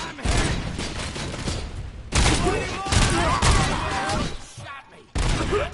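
Game gunfire from Robocop: Rogue City rattles in loud, close bursts of rapid shots and heavy impacts, broken by short pauses, with shouting voices mixed in among the fire.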